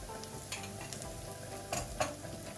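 Faint, steady sizzling of dried chillies frying in hot oil, with occasional soft stirring scrapes close by.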